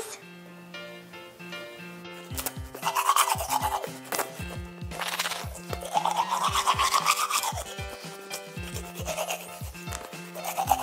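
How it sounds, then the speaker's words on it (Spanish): Toothbrush bristles scrub in quick rhythmic strokes, close and moderately loud, over a bright musical background. "Oh, me tengo que cepillar los dientes."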